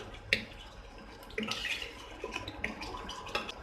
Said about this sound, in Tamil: இன்னும் கொஞ்சம் தண்ணி விடலாம்.